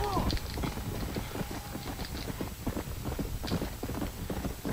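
Horse hooves in Red Dead Redemption Undead Nightmare: a quick run of clip-clop beats, moderately faint and close, mixed with game noise and someone talking.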